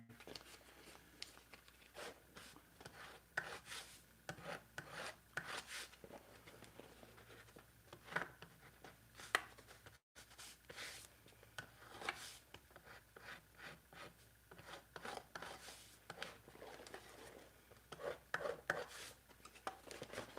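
Hand-scraping oiled, home-tanned leather in a workshop, quiet rasping strokes repeating in irregular bursts, close but very faint, with no talking.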